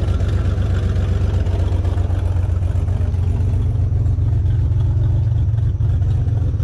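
A turbocharged GMC truck engine runs rough, a loud, steady low rumble close by with an uneven, lumpy idle throughout and no talking.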